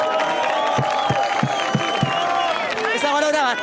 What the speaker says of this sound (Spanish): quiero un aplauso fuerte para Cristo Febril y Fusoc